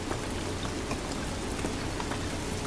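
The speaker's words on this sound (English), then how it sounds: "This rain ain't gonna do us any good." Steady, dense rain pours down in The Last of Us, a loud continuous hiss of drops spattering on surfaces with no break and no voices.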